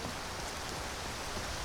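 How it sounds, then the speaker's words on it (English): Steady rain falls in Skyrim running the Nolvus modlist, a dense, even hiss of drops that stays constant and close with no voices over it. "Guess it's raining."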